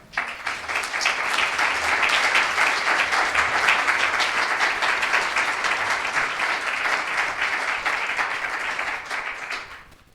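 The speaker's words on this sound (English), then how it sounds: "Please clap your hands for Anna Crowe." Audience applause for a translator at an evening book presentation of Joan Margarit's poetry, steady dense clapping from a roomful of people that swells quickly, holds for about ten seconds, then fades out.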